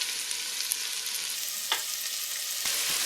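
Onion and leek fry in a pot with a constant, close, hissing sizzle, broken by a few faint crackles and a light scrape of stirring.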